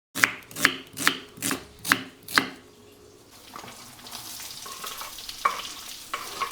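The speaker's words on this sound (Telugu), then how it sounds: "అండ్ నేను తీసుకున్న డ్రై స్పైసెస్ అన్నీ కూడా ఇందులో వేసేసుకున్నా" Dry spices and curry leaves dropped into hot oil in a kadai: six sharp rhythmic knocks at first, then a steady close sizzle with a few brief crackles, no talking.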